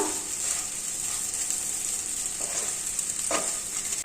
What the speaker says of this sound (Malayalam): ഇനി തേങ്ങയും ഇതിലോട്ട് നന്നായിട്ട് ഒന്ന് യോജിപ്പിച്ചെടുക്കുക.